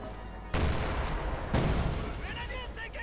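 A Bulldozer Sherman tank fires its cannon in the video game Company of Heroes 2: two loud, sharp booms about a second apart over a dense, continuous battle din.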